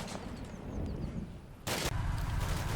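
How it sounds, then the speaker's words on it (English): Sniper gunfire in Combat Mission: Black Sea, with one sharp, loud report cutting through a rumbling battle ambience near the end of a short stretch. "the snipers have moved down to the first floor and are now shooting the Ukrainians"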